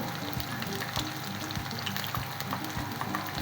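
Brinjal (eggplant) pakoras frying in hot oil over medium heat, a steady dense sizzle with crackling bursts running throughout, close and fairly loud, no voices.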